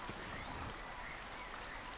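Waterfall in the survival video game The Isle, a continuous broadband rush of falling water, steady and fairly loud without breaks across the whole moment.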